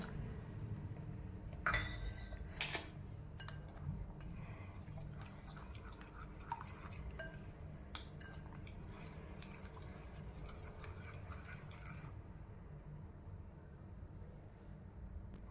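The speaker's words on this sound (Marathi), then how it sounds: "त्याच वाटीने मी पाणी पण यात घालणार आहे एक वाटी पाणी घालणार आहे" Water is poured from a small bowl into rice flour, with soft splashing and a few clinks of metal near the start, then a quiet continuous trickle.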